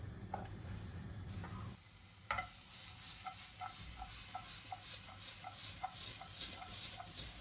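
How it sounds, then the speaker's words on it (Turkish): A continuous sizzle of chopped onions frying in olive oil in a pan, with a sharp sputter as the onions hit the oil and small ticking pops throughout. "Doğradığım soğanları ekliyorum."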